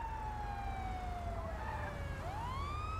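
A police car siren in GTA 5 wails steadily, its pitch sliding slowly down and then sweeping back up, loud and continuous over low engine rumble.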